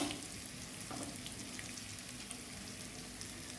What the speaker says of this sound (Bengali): আমার টমেটোটা একটু ভাজা হয়ে গেছে, আমি এখানে একটু জিরের গুঁড়ো দিয়ে দিলাম